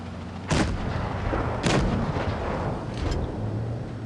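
Three heavy tank cannon shots from an E 50 in a tank battle video game, each a sharp booming blast followed by a rumbling tail, spaced roughly a second apart over a low engine drone.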